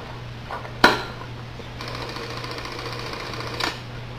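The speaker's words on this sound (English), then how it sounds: "It just sounds like a distinctive mechanical movie camera." An 8mm movie camera mechanism runs with a steady mechanical whir for several seconds, bracketed by a sharp click at the start and a softer clack near the end.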